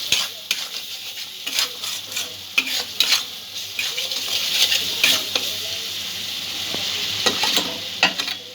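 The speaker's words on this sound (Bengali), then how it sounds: "মশলাটা একটু কষতে দেব।" Spice paste with a spoonful of sugar fries in a pan for a creamy white-sauce chicken curry, a steady close sizzle broken by repeated scrapes and taps of a spoon stirring against the pan.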